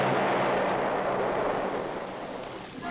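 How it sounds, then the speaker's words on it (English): Underwater depth charges dropped from a research ship rumble in a continuous, loud, broad roar that slowly fades, with a fresh swell at the very end. "depth charges are rolled overboard at regular intervals"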